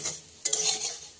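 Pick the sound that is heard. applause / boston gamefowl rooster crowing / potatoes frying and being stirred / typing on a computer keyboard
potatoes frying and being stirred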